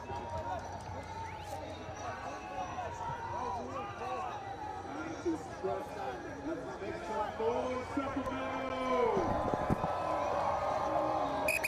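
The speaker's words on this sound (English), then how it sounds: "And crowd comes alive here." Rugby stadium crowd during a PRO Rugby match between Sacramento and Ohio, a dense steady roar of chatter and cheering that swells louder toward the end, with shouts rising above the noise.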